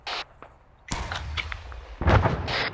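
Gunfire aimed at a vehicle's wheels in the ArmA 3 military shooter, heard as sharp, loud shot bursts separated by short gaps, with a heavier cluster of shots near the end and no talk over it.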